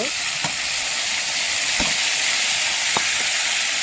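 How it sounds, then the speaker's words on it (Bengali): Spiced shing fish curry being stirred in a frying pan, a loud continuous hissing sizzle with a few sharp spatula knocks against the pan, close up and uninterrupted. "এই যে এভাবে নাড়াচাড়া করে নিচ্ছি। এবারে আমি মশলাটা দিয়ে দিব"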